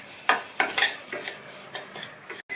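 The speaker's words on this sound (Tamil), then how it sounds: "இதை இந்த நெய்லேயே நல்லா வாசனை வர வரையும் வறுத்துக்கணும்." Semolina is stirred and roasted in ghee in a pan for poli sweets, with a spoon scraping the pan in several close, uneven strokes over a low background and no talk.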